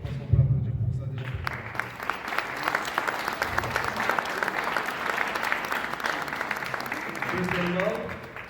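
Sustained audience applause fills a charity evening for a Parkinson's association, steady and dense for several seconds after a brief moment of speech at the start, with a voice returning near the end.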